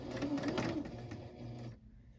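A sewing machine runs a longer-stitch seam on a Jasmine dress, a steady motor whir with rapid needle ticking that holds close and fairly loud for under two seconds, then stops abruptly into quiet.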